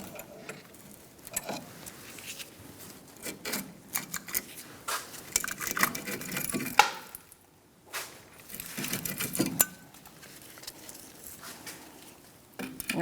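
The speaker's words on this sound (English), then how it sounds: "you're going to take a pry bar and gently" Irregular metallic clicks, taps and scrapes sound close by as a pry bar works a brake caliper loose on a 2010-2013 Kia Soul, coming in uneven clusters with short quiet gaps.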